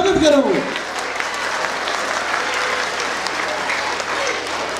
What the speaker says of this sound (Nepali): हाम्रा सम्पूर्ण अभिभावकहरूलाई जोरदार तालीले स्वागत गरौँ